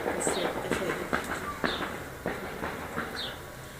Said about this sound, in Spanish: es una sucesión de disparos